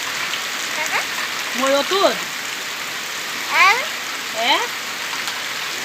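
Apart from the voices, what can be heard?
heavy rain falling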